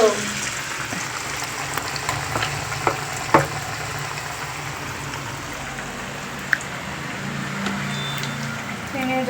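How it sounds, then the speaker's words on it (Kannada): Chana dal vadas frying in oil over a low flame, a steady soft sizzle and bubbling that carries through the whole stretch, with a few faint clicks from the pan. "ಆದಷ್ಟು ಲೋ ಫ್ಲೇಮ್ ಒಳಗೆ ಇಟ್ಕೊಂಡು ಫ್ರೈ ಮಾಡ್ಕೊರಿ"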